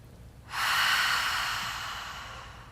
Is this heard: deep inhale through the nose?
yes